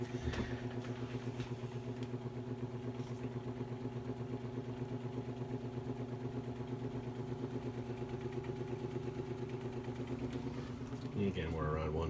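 A Western Electric 10 engine runs steadily with a loud, even, rhythmic thrum and throbbing chug close by, ending with a brief rattle near the end.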